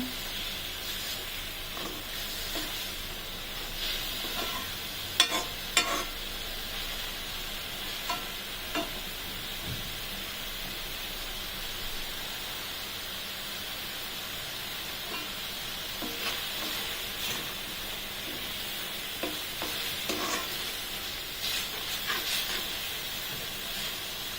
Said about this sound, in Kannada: ಈರುಳ್ಳಿ ಚೆನ್ನಾಗಿ ಹಸಿ ವಾಸನೆ ಎಲ್ಲ ಹೋಗ್ಬೇಕು, ಇಲ್ಲ ಅಂದರೆ ಅದು ಹಸಿದಂಗೆ ಸ್ಮೆಲ್ ಇರುತ್ತೆ. ಚೆನ್ನಾಗಿ ಫ್ರೈ ಆಗಬೇಕು.